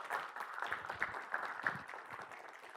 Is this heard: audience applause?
yes